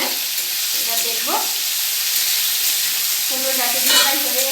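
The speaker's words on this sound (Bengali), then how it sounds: "কুমড়ো ডাঁটিগুলো প্রায় হয়ে এসছে, একটু ভাজা ভাজা হয়ে এসছে।" Pumpkin stems nearly cooked fry in an open pan, giving a steady close sizzle and hiss with a couple of brief stirring scrapes rising over the constant frying.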